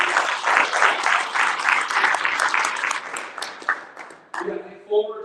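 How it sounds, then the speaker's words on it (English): Audience at a live business sales seminar applauds a presenter, loud continuous clapping that tapers off, then a voice speaks over the hall near the end. "Round of applause."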